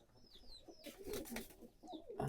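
Soft pigeon cooing nearby, a few low murmuring calls over faint chirps and a brief rustle, fairly quiet.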